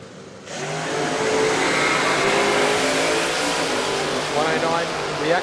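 Drag racing cars launch down the strip at a Queensland drag racing championship final, a loud, sustained roar of engines that fills the whole clip after a brief quieter opening.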